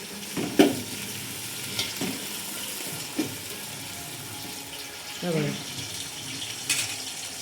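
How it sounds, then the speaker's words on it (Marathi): Spice tempering for biryani being stirred in a pan, with a steady low sizzle and a few louder clinks and scrapes of the spoon spread through, close and moderate in level. "हे बघा मस्तपैकी असा छान असा तडका बसत आहे हे बघा मैत्रिणी छानपैकी आता आपण मस्त हलवून घेत आहोत"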